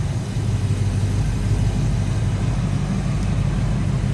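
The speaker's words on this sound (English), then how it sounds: "You hear the AC compressor kick on and off." A 1992 Ford Mustang LX convertible with a 5-liter V8 idles steadily up close, a deep, continuous rumble, while the converted R134a air-conditioning compressor cycles on and off.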